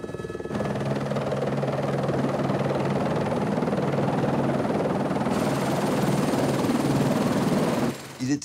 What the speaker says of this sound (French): Pour gagner le bateau, plusieurs rotations d'hélicoptères sont nécessaires.